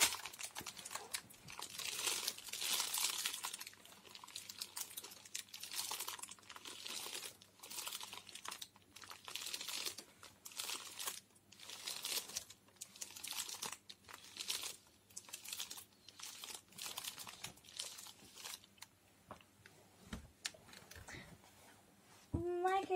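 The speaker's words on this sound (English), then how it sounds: "just keep it in the baking paper and flip it over like this, and then iron the other side" Baking paper wrapped around melted plastic drinking-straw art crinkles and rustles as it is handled, flipped and ironed, giving close, loud, irregular bursts of crackling with short quiet gaps, ending with a few sharper rustles.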